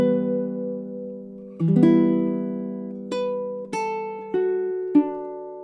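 Two measures of Morrison's Jig played on a baritone ukulele, plucked notes ringing out clearly with a few sharp picked attacks, solo and close with no voices.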